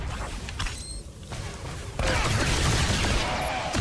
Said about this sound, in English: Series of shots.